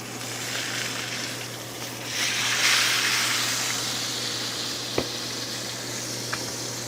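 Blackened Cajun steak frying in a single pan under a splatter guard, with a steady close sizzle that swells briefly and two sharp grease pops near the end.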